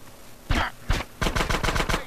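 Gunfire in Grand Theft Auto: San Andreas: two separate sharp shots are followed by a fast burst of about seven rapid cracks, all close and punchy with no talk.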